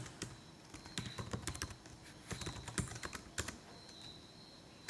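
Quick bursts of typing on a computer keyboard while entering JavaScript code, clattering keystrokes in irregular flurries with brief pauses, close and fairly quiet.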